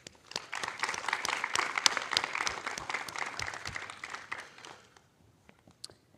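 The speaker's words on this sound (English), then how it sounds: "So let's give a round of applause for the sponsors" Conference crowd applauding the sponsors at SquiggleConf 2025, a fairly quiet, crackling patter of many hands that fades away near the end, leaving a few scattered claps.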